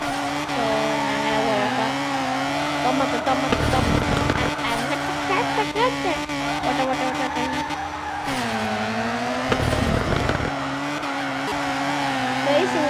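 A car drifts in the mobile racing game FR Legends, its engine droning steadily while tires squeal through long slides. Someone speaks over the game audio.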